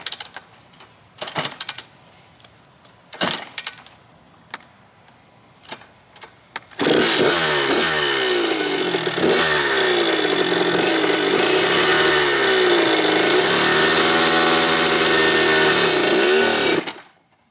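A Kawasaki KX100 two-stroke dirt bike with a few short blips at first, then a loud, sustained, buzzy revving run with rising and falling pitch, up close.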